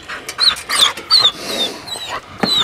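A coonhound pup on a nighttime coon hunt in West Virginia whimpers in a run of high, thin whines and short yips, close and fairly loud, with breathy pauses between cries.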